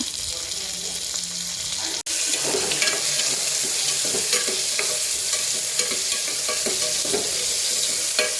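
Curry leaves and onion frying in a pan for radish sambar, a steady loud sizzle with stirring scrapes throughout after a brief cut near the start, no talk.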